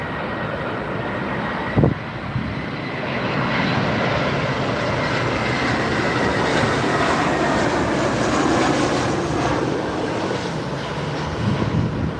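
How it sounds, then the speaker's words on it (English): A Boeing 787 Dreamliner lands on runway 27R at London Heathrow, a broad, loud roar of jet engines and rushing air that holds steady and swells slightly as it passes, with a short thump early on. "next up is the Dreamliner just coming in now, folks"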